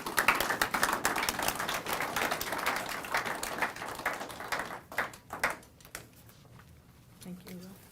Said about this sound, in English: let's give a round of applause to Minister Anita Campbell